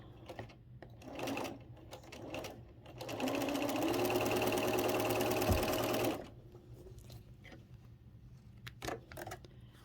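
A sewing machine stitches quilt block pieces into pairs in a steady, fast mechanical whir lasting about three seconds. Quieter handling sounds of fabric and scissors come before and after the run.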